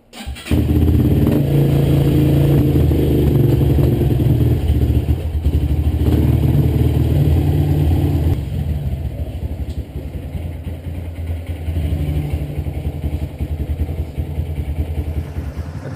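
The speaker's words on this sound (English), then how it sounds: "I'm going to go ahead and run the bike for a few minutes" A Honda CRF dirt bike engine runs close and loud with a rough, clattering mechanical tone, holding steady for several seconds and then settling to a lower, quieter idle.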